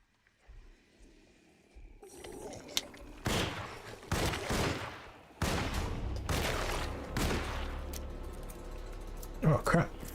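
Several bursts of gunfire from a video game featuring a Stranger Things character, irregular and fairly loud, spread across the clip with background game noise and people talking over it.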